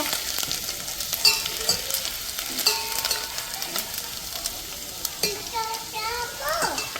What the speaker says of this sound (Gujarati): પહેલાં લસણ નાખ્યું, પછી આદું, એને સાંતળી લઈશું મસ્ત